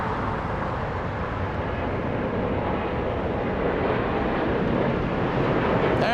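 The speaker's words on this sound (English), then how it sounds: "Japan Airlines up next." A Japan Airlines airplane at Los Angeles International Airport gives a continuous broadband engine roar, loud and steady, swelling slightly toward the end.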